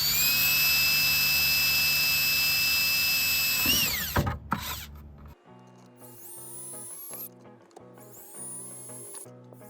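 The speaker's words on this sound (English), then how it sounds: "we're going to go ahead and drill these with the smaller bit that was provided" A power drill drills pilot holes with a small bit on a Ford F-150, whining steadily at high speed, then slows and stops, followed by clicking and rattling mechanical noises.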